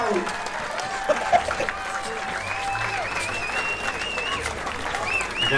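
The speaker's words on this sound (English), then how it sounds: "Come on, big cheer for both America and England." A crowd at a jousting tournament claps and cheers after a bout, dense continuous applause with whistles and shouts, and an announcer talking over it.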